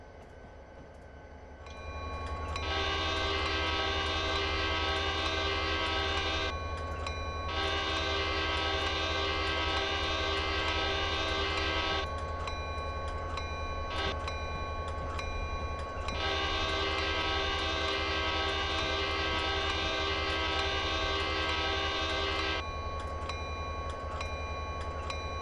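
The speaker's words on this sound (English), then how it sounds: "Got a nice long train full of fly ash from a power plant." A long freight train loaded with fly ash rumbles past a crossing steadily while its horn blasts repeatedly in long, loud blows, with faint rail clatter underneath.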